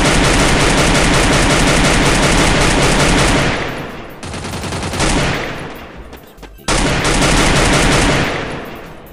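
Dense, loud automatic gunfire in the mobile shooter game Free Fire rattles in long continuous bursts, breaking off briefly and then resuming just as heavily.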